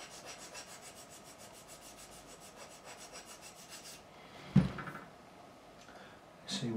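A wooden part for a 1972 Gibson Les Paul Deluxe is shaped by hand, with a rapid run of rhythmic rasping file strokes close by, then a pause and a couple of sharp knocks.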